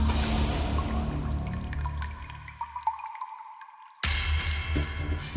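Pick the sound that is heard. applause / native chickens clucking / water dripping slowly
water dripping slowly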